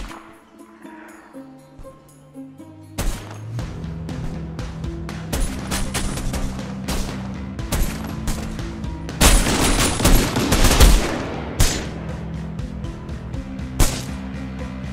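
Machine gun fire in the PC war game Ratten Reich, bursts of rapid rattling shots mixed with louder blasts and a heavy explosion, dense and close over a low musical drone, no speech.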